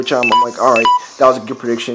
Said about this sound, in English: You guys heard that beep? That was my phone.